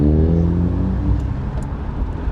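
Ford Focus car driving past nearby, a steady low engine and road rumble that swells briefly then eases as it goes by.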